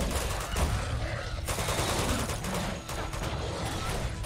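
Enemy gunfire in a first-person shooter game, a dense, continuous barrage of shots rolling on without a break, loud and close, with no talk over it.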